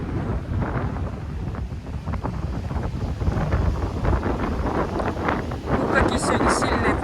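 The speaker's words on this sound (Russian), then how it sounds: "Ну, какие сегодня сильные волны" Strong sea waves roll in at a beach under gusty wind, a continuous rough wash with surges and microphone buffeting, while a person talks over it.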